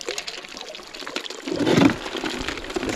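Water sloshing and pouring inside a floating gold sluice box as it rocks, a brief swell of splashing and trickling in the middle, close by and fairly quiet.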